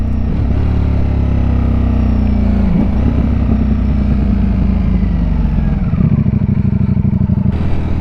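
Ducati Streetfighter V4S motorcycle engine rumbling loudly and steadily while riding, with the pitch dipping at downshifts around the third and sixth seconds, up close throughout.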